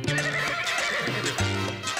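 A horse neighs in a loud, wavering whinny twice, with clip-clopping hooves beneath, near and prominent.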